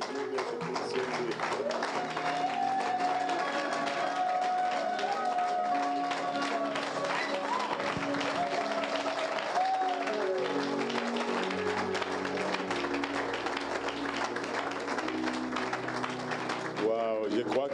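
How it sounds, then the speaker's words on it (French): A church congregation applauding and acclaiming during a sermon, sustained clapping and crowd noise running throughout, with sung or shouted vocal tones and music weaving over the top before it thins near the end. "Ça, vous avez acclamé pour qui?"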